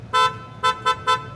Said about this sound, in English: Drivers honk for their favorite candidates as they pass by on the way to cast their votes.